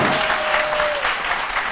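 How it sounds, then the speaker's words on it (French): A studio audience on a midday television show applauds the chef in a short, loud burst of dense clapping. "qu'on puisse applaudir notre cuistot, chef Lazare"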